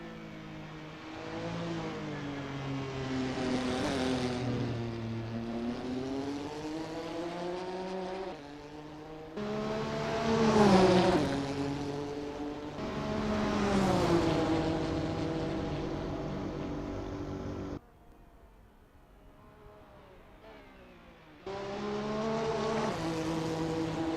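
A Porsche 962C Longtail race car engine in Assetto Corsa during a practice session revs hard through repeated rising and falling sweeps, with short gear-change dips and a brief quieter lull near the end, loud and close with no talk.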